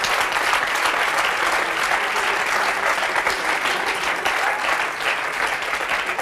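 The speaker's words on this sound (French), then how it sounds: "Bah oui, on peut l'applaudir." A French television talk show's studio audience claps in a loud, sustained, even burst of applause lasting several seconds, with no speech over it.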